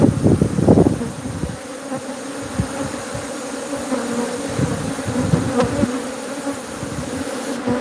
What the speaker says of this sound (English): enjoy the hum of the angry fucking bees